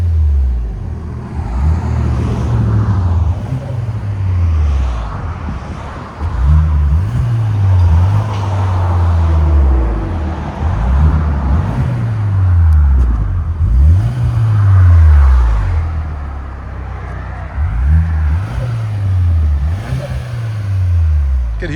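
A 2025 Kia Sorento with a 2.5L turbo engine and Borla ProXS dual exhaust rumbles and revs in repeated low swells, each rev rising and falling, loud and close, with some talk over it.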